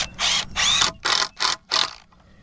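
Deck screws driven into wood for a DIY ground-mount solar array frame, heard as five short, loud ratcheting bursts from a power driver in quick succession, close up and with no talk.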